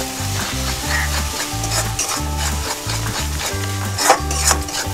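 Egg curry masala with Kashmiri chili powder sautéed in a pan, loud sizzling under a steady rhythm of scraping and stirring strokes against the pan, with a low repeating background tone.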